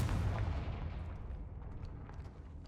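A Confringo fire spell explosion in the Hogwarts Legacy video game, one deep rumbling blast that booms at the start and slowly rolls away over a couple of seconds, heard alone.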